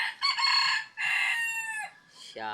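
A Rhode Island rooster crows loudly and close, with long drawn-out calls broken by short pauses, followed by a lower throaty cluck.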